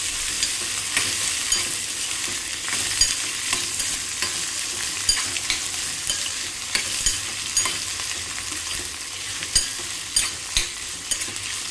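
Bitter gourd stir-fries in a pan over a crackling turmeric tempering, a steady broadband sizzle with repeated scraping stirs and small pops throughout, close and fairly loud with no talking.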